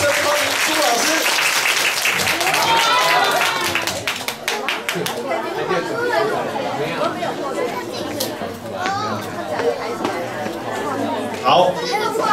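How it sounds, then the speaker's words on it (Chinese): Audience clapping and cheering at a live science show to welcome a teacher onstage: dense, sustained applause from a crowd, loud and close, with voices chattering throughout. "掌声欢迎朱老师"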